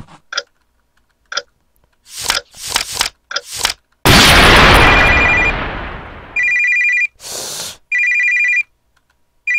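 An electronic telephone rings in bursts in a horror video game, following scattered clicks, thuds and a loud rumbling boom; the rings are steady and fairly loud.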